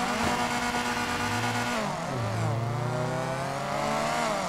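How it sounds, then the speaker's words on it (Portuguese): Two Volkswagen Voyage cars, one turbocharged and one naturally aspirated, launching from a drag start at full revs, engines screaming loud and close as the pitch climbs, dips at a gear change, then climbs again. "Vamos sair uma de motor cheio agora. Segura o freio de mão e corta giro aí."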